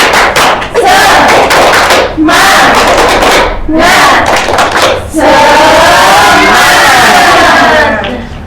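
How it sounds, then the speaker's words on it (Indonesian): A primary school class does a rhythmic spirit clap chant, loud children's voices shouting together in bursts with clapping mixed in, close and energetic, with brief pauses between phrases. "Tepuk semangat ya."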